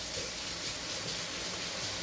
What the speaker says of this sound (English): I'm going to rinse this.